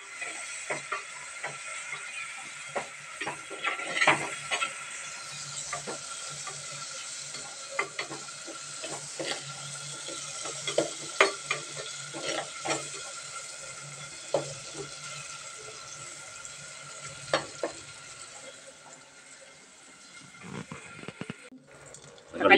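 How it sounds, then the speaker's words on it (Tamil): Fenugreek, onion and mustard seeds fry in a pan with a steady sizzle throughout, broken by repeated spoon stirs and scrapes, close and moderately loud, with no talking. "வெந்தயம் போட்டு வெங்காயம் கடுகுலாம் போட்டு நல்லா கொஞ்சம் ஒரு கலர்"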